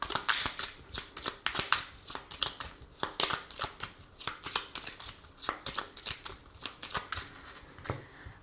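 A 32-card deck being shuffled by hand, a long run of quick papery riffles and flicks in an uneven rhythm, close and fairly soft, with no talking.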